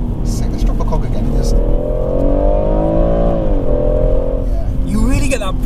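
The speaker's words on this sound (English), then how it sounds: "Let's drop a cog again." A Motech-tuned BMW M140i drops a gear and pulls hard, its engine note climbing steadily in pitch over several seconds before a brief shift, with loud in-cabin drone and a voice talking over it.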